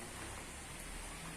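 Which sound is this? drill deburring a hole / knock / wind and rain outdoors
wind and rain outdoors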